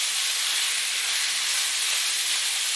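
Roughly chopped garlic, two cloves, hits hot olive oil in a pan and sizzles with a steady, loud hiss that fills the whole stretch without letup, with no voices over it.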